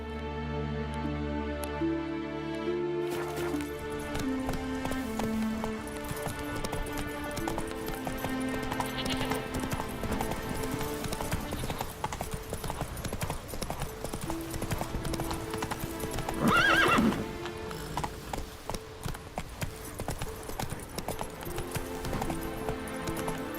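A horse gallops in The Witcher 3, rapid rhythmic clip-clop hoofbeats running continuously at close range over game music and ambience, with a brief whinny-like burst midway.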